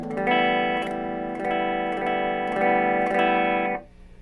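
An electric guitar plays through a repaired 1980s Marshall amplifier, sustained chords strummed in a steady repeating rhythm with a bright, slightly effected tone, loud and close, ending as the notes are cut off.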